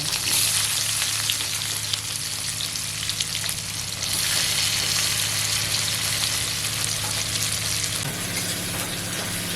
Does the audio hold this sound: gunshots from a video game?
no